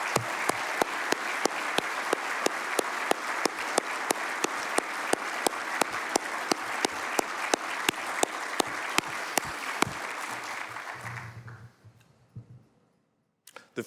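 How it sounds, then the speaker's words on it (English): Applause from a conference audience at a surgical society presidential address, a steady wash of clapping with crisp individual claps standing out, lasting about eleven seconds before cutting off into near silence. "Please give me an applause to Dr. Pond."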